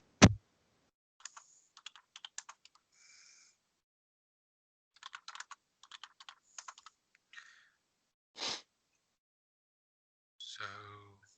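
Quick bursts of typing on a computer keyboard in a quiet room, separated by pauses, with a thump at the start and a brief other noise near the end.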